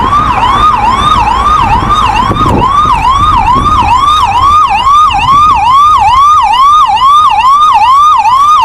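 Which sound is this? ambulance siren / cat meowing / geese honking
ambulance siren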